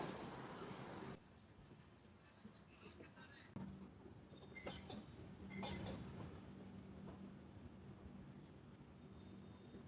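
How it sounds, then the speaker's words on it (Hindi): A passenger train rolls along rails on a curve near its final stop at Kanyakumari, India, with a steady low rumble and scattered wheel squeals and clicks, continuous and fairly close, without talk. "सो दोस्तों लास्ट स्टेशन से पहले ट्रेन ने क्या खूबसूरत कर्व लिया है"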